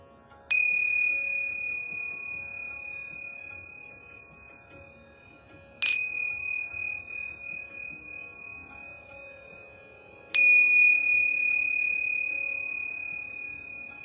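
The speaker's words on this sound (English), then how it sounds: "I'm going to ring these yoga bells 3 times." Yoga bells are struck three times, several seconds apart. Each strike gives a bright, clear metallic tone that rings on and slowly fades before the next one.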